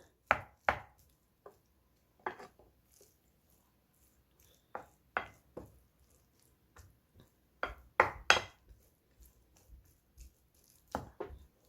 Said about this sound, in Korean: 양파를 너무 크게 썰었나?